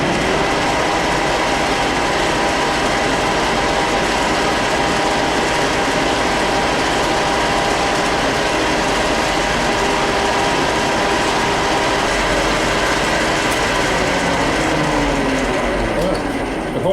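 Gears of a rotating welding positioner turning, a loud continuous mechanical grinding and clicking with rhythmic meshing texture and a steady hum, running throughout without pause.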